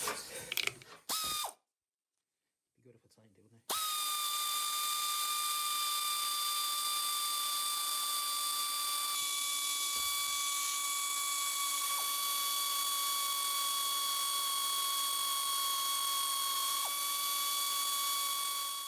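After a few short mechanical clatters and a brief silence, a power tool snugs bolts on an MGB GT axle in one long, steady, high whine that runs for about fifteen seconds.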